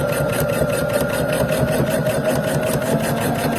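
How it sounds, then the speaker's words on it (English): Pfaff sewing machine backstitching through a quilt block, a steady close whirring drone with a fast needle rhythm running throughout, no talk. "And I am going to backstitch here"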